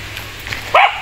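A single dog barks sharply from nearby on a slippery uphill road, one loud bark near the end over a faint outdoor background.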